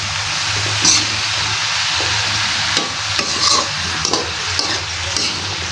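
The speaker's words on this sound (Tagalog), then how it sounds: "Ayan, haluin lang natin." Food is stirred in a cooking pot, with scraping and clattering strokes of a utensil over a sizzling, bubbling background, several sharper knocks standing out; close and fairly loud, with no talking.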